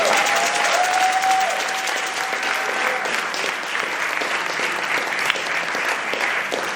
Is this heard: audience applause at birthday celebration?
yes